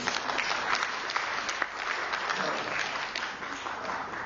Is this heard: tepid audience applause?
yes